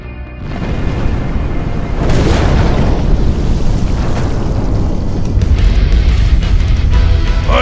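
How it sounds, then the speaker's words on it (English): A loud video game cutscene explosion in The TakeOver, a sustained roaring boom that swells around two seconds in and rumbles on with dense low-end debris and crackle for several seconds, with no voices. "I know enough about explosions to recognize one!"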